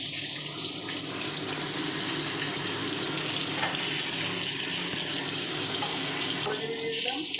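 Oil and spices sizzle steadily in a hot wok while a Bengali thin koi fish curry is cooked, a dense continuous frying hiss close up and fairly loud with no pauses.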